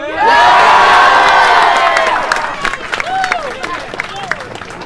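Students at a high school rally for their principal yell and cheer in a loud, dense crowd roar that peaks at once, then slowly fades into scattered whoops and shouts.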